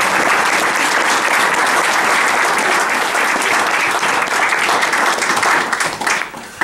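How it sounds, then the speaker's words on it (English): A concert audience at a spring performance claps loudly and steadily, a thick roar of many hands that holds for several seconds before tapering off at the end. "Give them another wee round of applause."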